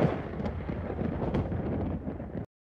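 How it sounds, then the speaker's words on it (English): Thunder rumbles loud and steady in a weather education video game, a dense roar that holds for over two seconds before cutting off abruptly. "The thunder just roared, so go indoors, Owlie."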